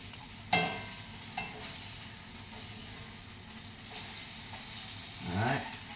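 Small pan fish fillets fry in hot grease with a steady close sizzle and hiss, punctuated by a few sharp utensil clinks and a brief swelling burst near the end, with faint voices in the background.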